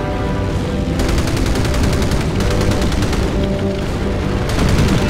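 Naval combat gunfire in the WWII game Battlestations: Pacific around the USS Northampton during the defense of Henderson Field, with dense machine-gun bursts in long rapid rattling runs over a loud continuous engine and battle rumble.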